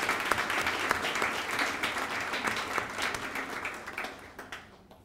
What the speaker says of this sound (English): a round of applause to all those facilitators